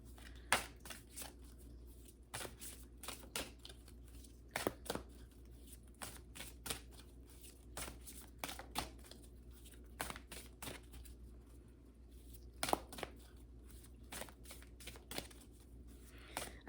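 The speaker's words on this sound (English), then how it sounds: "I never shuffle this deck like this" A deck of cards is shuffled repeatedly, crisp riffling bursts coming in quick irregular clusters, close and fairly quiet, with no voices.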